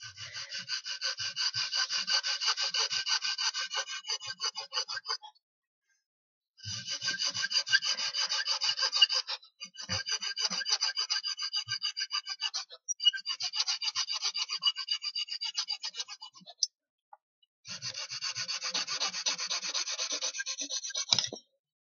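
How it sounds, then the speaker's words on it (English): A small piece of a model house being sawn off by hand, gently, with rapid rasping strokes in four long bursts separated by short pauses, close and moderately loud with no talking. "hold it very firmly down and then saw it off, but very gently"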